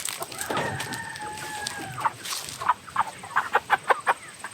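Large meat chickens ready for processing, heard as a rooster crow near the start followed by a run of short, repeated clucks and squawks at moderate distance, with no talking.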